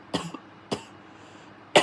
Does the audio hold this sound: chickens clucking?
no